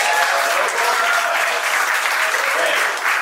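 A stand-up comedy club audience in Las Vegas claps in dense, steady applause that holds evenly for about three seconds with no voices over it.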